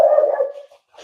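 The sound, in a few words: dog barking in the background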